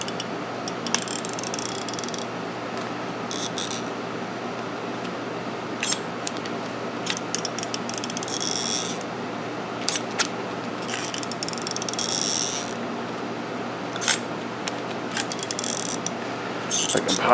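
Hand riveter working pop rivets during repair of the AC box on a 1994 Saab 9000, giving sharp ratcheting clicks and squeezes in several bursts over a steady background hum.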